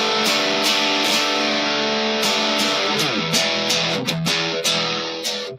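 An electric guitar played through a 1981 ProCo Rat distortion pedal gives a thick, sustained overdriven tone with sliding notes. Rhythmic chord stabs follow near the end, loud and alone with no talk.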